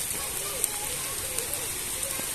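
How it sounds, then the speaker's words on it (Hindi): Heavy rain pours down outdoors beside a small swimming pool as a dense, steady hiss with scattered pattering drops. Faint voices can be heard under it. "बारिश माशाल्लाह से फुल तेज हो गई"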